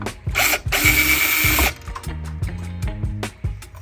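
A small screwdriver works loose the bass tuner screws on a 1971 Fender Precision Bass, giving a run of close, sharp ratcheting clicks and metallic scrapes along with a brief burst of rushing noise.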